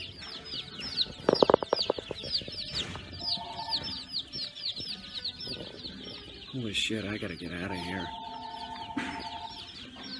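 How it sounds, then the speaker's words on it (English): Chickens cluck and chirp steadily in a Tractor Supply farm store, with a cluster of louder rapid calls early on and people talking over the flock throughout. "I want one of those black chickens."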